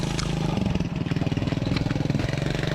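Sunl SLA 90cc Chinese four-wheeler ridden by a young kid through the woods, its small engine chugging in a fast, pulsing putter that revs unevenly, close and loud throughout.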